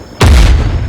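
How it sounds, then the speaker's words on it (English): A mortar round explodes in the video game Arma 3, a single sudden loud boom with a deep low rumble that fades over the following second. "We're getting direct mortar fire."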